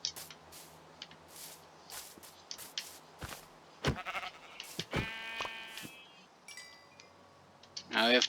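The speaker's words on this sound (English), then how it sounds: "There's another white sheep." Blocky sheep in the Minecraft video game bleat now and then amid scattered clicks and soft in-game ambience, with a louder bleat near the end.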